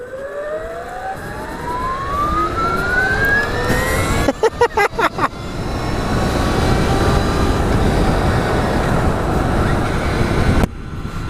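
Electric whine of a Brammo Empulse R electric motorcycle motor, rising in pitch as it accelerates, with steady road and wind noise and a brief burst of clicks midway.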